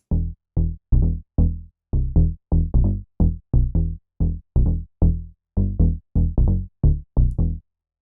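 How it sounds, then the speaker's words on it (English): Rhythmic UK garage bass line played on Native Instruments Monark, a Minimoog-style synth, with short punchy notes in a syncopated, groovy pattern separated by clean gaps, solo and fairly loud. "This is the Monark Synth, and I believe it's an emulation of the old Minimoog synthesizer."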